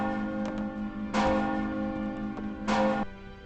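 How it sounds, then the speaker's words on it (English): Town bells in the Lord of the Rings Online video game ring out loudly in two strong, sustained chimes with fainter strikes between, alone with no voices. "What is that? That's loud. The town bells!"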